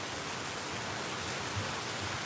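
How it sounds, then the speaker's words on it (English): Strong storm wind blowing steadily outdoors, a dense, even rushing roar with occasional low gusty buffeting, loud and close throughout with no pauses. "it's getting very windy"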